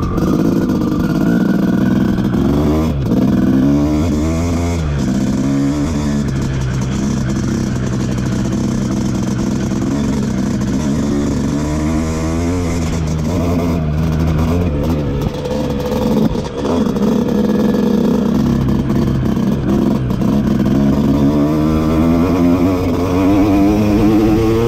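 A KTM motorcycle rolls on the throttle in fifth gear, its engine note loud and steady as it climbs and falls in pitch over about twenty-five seconds of continuous riding, with no talk.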